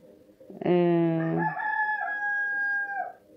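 A domestic rooster gives one loud, close cock-a-doodle-doo crow with a drawn-out, wavering final note, heard on its own.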